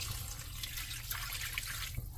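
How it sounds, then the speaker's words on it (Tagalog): Water poured into a pot of stewed pork with dried mushrooms, a steady close splashing wash running the whole time with no talk. "ngayon po ay maglalagay po tayo ng tubig para dito palambutin natin yung ating karne"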